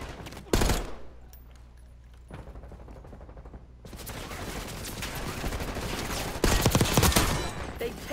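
Gunfire bursts in a Black Ops 6 Kill Order match, with loud sharp volleys near the start and heavier sustained firing in the second half, mixed with game noise and some voices.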